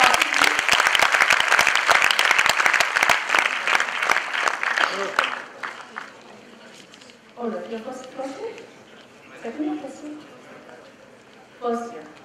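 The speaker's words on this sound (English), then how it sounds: "Can we just have a round of applause for Karthik?" Audience applause for a volunteer, loud and dense for about five seconds and then quickly dying away, followed by someone speaking at a corporate HR talk.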